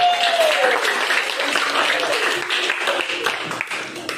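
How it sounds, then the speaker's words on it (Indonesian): A classroom group applauds Asman during a coaching lesson, a loud burst of close clapping that starts at once and slowly thins out, with a brief voice sound at the very start. "Tepuk tangan untuk Asman dari kelompok."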